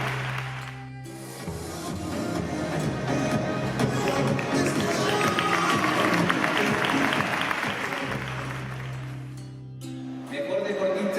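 Sustained, loud applause from an audience at a local sports awards gala in Jaraíz de la Vera greets a female athlete of the year, swelling and fading over several seconds, with music underneath at start and end.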